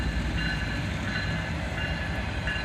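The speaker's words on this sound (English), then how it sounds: "Just a single locomotive on the head end here." A single locomotive rolls slowly past close by, giving a steady heavy rumble with faint high metallic whines above it and no horn.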